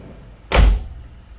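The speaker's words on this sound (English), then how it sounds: "let me also just make sure that the door shuts right" A Nissan Figaro car door shut once, a single solid thump with a short metallic rattle that fades quickly, close and alone.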